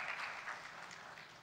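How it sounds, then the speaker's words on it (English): Audience applause for panelists at a sports and gaming panel, a soft, fairly distant patter of clapping hands that fades slightly over a brief moment. "Let's give a round of applause for the panelists."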